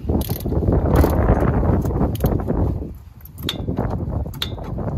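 A ratcheting torque wrench works on the front brake caliper bolts of a Honda CR-V, making close, loud mechanical ratchet clatter with a couple of sharp metallic clicks near the end and no talking.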